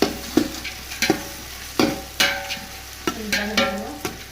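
Onions fry with spices in a pan, stirred in repeated scraping strokes about every half second over a constant close sizzle, with no talking.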